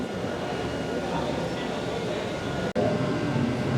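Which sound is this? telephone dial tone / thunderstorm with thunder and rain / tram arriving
tram arriving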